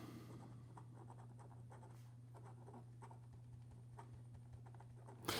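A Leonardo Momento Magico extra-fine fountain pen writing reverse on paper gives soft, faint, close scratchy strokes in short irregular bursts over a steady low electrical hum.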